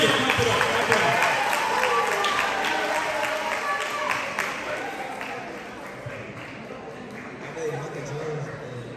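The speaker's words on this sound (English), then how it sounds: "Clap it up, brother, clap it up" A school assembly audience at a middle school claps for a student, a scattered patter of hands that stays moderate and tapers off, with voices murmuring throughout.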